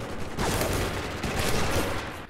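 Heavy machine gun fire in the multiplayer shooter Spec Ops: The Line, a loud dense burst of rapid rounds, continuous and close, with no voices over it.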